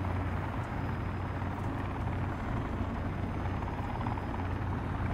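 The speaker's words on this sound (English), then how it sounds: "I found a helicopter. That's taking off." Helicopter engine and rotor roar while taking off in the survival game Sons of the Forest, a steady, dense and loud mechanical drone that holds unbroken throughout without talk.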